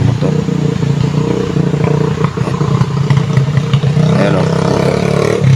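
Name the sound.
motorcycle passing on mountain road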